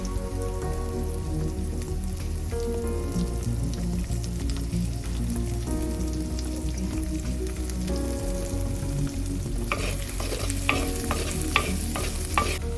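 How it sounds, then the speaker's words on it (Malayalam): Shallots with salt sauté in a pan for Kerala fish curry, giving a steady close sizzle with frequent scraping stirs that grow busier toward the end. "ഇപ്പം നമ്മുടെ ഉള്ളിയൊക്കെ നല്ല രീതിയിൽ വഴണ്ട് വന്നിട്ടുണ്ട്."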